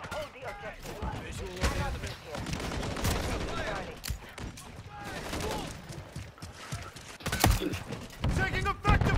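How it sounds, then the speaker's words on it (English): Dense bursts of automatic weapons fire in a Call of Duty: Modern Warfare 3 multiplayer domination match crackle repeatedly, loud and close, mixed with sharp impacts and voices calling out over the battle noise. "Taking enemy fire!"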